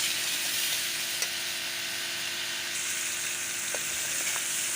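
Chicken pieces fry in hot oil in a pan for a moong dal chicken dish, giving a steady, close hiss of sizzling with a few faint pops and clicks and no talking.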